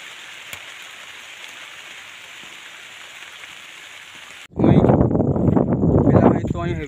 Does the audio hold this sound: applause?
no